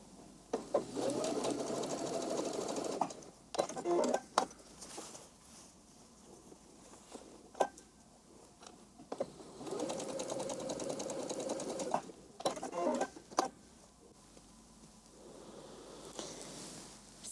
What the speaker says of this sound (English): I just stay stitch the folds, the pleats in place.